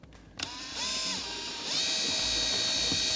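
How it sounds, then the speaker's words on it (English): A power drill whirs up and runs steadily as it bores a small guide hole into plywood beneath a model railroad layout, the motor pitch rising once then holding loud and close. "I'm going to go ahead and drill that hole first"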